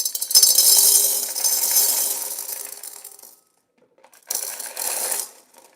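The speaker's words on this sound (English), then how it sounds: "it's going to get a little noisy, But I'm going to go ahead and put the gems down in here" A clattering, tinkling pour of small glass gems into a vase runs for a few seconds, pauses, then a second shorter pour follows.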